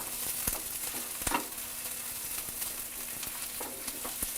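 Onion fries in a pan with a bright, steady sizzle close by, broken by a few light clicks and scrapes of a spoon as it is moved around.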